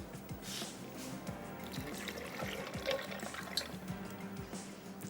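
Water pours into a glass for a lemon drink with a soft, continuous splashing trickle, quiet and close, with no voice over it.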